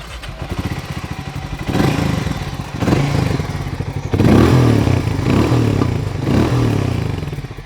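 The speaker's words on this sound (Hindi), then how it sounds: "तो ये है exhaust note Harley Davidson X440 की।" A Harley-Davidson X440 roadster's single-cylinder engine turning over and firing, then idling with a thumping exhaust beat and several sharp throttle blips, loud and close.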